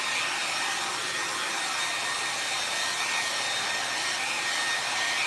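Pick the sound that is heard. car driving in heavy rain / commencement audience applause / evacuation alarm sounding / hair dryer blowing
hair dryer blowing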